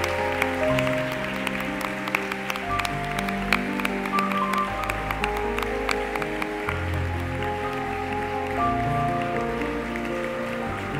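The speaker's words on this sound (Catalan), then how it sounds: "Un flor d'aplaudiment per a ells." A hall audience applauds after names are read out at a presentation of a festival queen and her ladies of honour, a sustained patter of many hands heard under a steady tonal music background.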